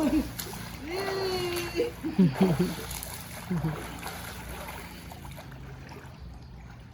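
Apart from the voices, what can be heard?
children splashing and swimming in water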